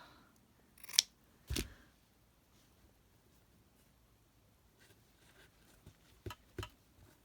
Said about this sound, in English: I feel like I need to give that one a trim.